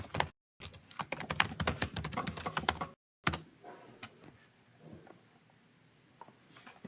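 A computer keyboard clatters in a fast run of keystrokes for a few seconds, pauses, then goes on with sparser, quieter taps, all close and clear with no voices.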